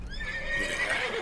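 A horse in the video game Red Dead Redemption 2 gives a clear whinny lasting about a second, close and fairly loud, with faint hoof clops beneath it.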